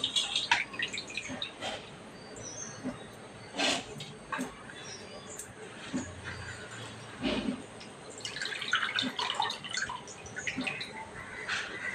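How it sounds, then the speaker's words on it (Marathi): Water pours and splashes in uneven bursts while sand and soil are rinsed from sea fenugreek greens in a home kitchen, with scattered drips and faint clinks and no voice. "थांबा तुम्हाला पाणी ओतून माती दाखवते"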